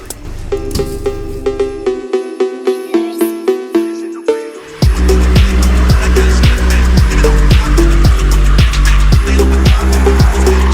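Subaru BRZ on a snowy road: a sequence of rising, stepped engine revs gives way to a loud, sustained engine roar with repeated rhythmic surges, heard alone without voices.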